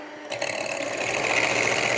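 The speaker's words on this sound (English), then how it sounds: "whisk until they're doubled in size" An electric whisk beats eggs and sugar in a mixing bowl, its motor whirring up sharply and then holding a steady, close, continuous buzz, with no one speaking.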